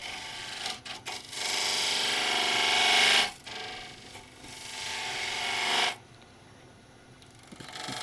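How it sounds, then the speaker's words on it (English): A spindle gouge cutting a cypress hollow form on a wood lathe, two long rasping cuts with a steady rising scrape, close and loud, then quieter lathe hum. "Probably a little safer to do it with a spindle gouge."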